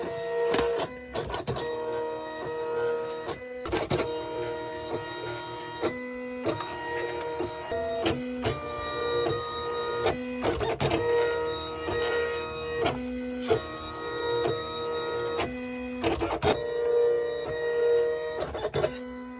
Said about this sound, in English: I'm just going to send it off to get cut with the silhouette machine